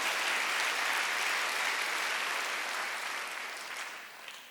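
Sustained applause from a church congregation fills the room as a dense, even wash of clapping that fades slightly toward the end, with no voices over it.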